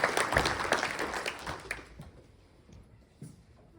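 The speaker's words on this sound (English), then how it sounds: "You can give Bill a round of applause" An annual meeting audience claps briefly for the board chairman, a short burst of fairly faint applause that quickly thins out into scattered claps and quiet room noise.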